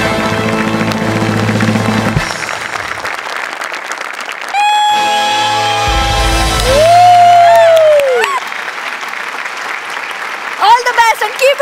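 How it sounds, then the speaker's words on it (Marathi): A standing studio audience at a Marathi stage comedy show applauds and cheers for the comedians; loud, dense clapping with scattered whoops blends with bright stage music and sustained musical tones, and a burst of crowd noise returns near the end. "एकदा उभं राहून तुमच्यासाठी टाळ्या वाजवतो"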